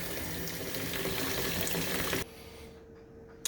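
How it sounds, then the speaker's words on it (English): Water running and splashing steadily from a tap into a sink for washing glass bottles in hot soapy water, then cutting off abruptly, leaving a quiet hum and a brief clink at the end. "So I'm putting the bottles in this hot soapy water."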